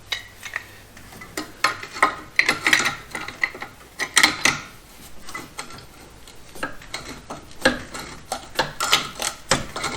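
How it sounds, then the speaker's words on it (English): Metallic clicks and ratcheting clatter come in irregular bursts as the engine of an abandoned 1971 Chevy Nova is turned over by hand at the crank bolt, with close, sharp tool knocks between quieter pauses. "I'm going to see if I can turn it over by the crank bolt"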